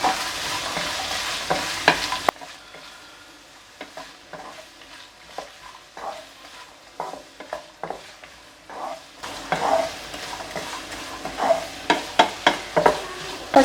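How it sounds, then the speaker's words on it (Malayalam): Onions fry in hot oil with a loud sizzle that drops to a quieter crackle in the middle, then surges back, under repeated spoon scrapes and knocks against the pan. "നല്ലോണം ചൂടായിട്ടുണ്ട് എണ്ണ. ഞാനത് ഇളക്കുകയാണ്."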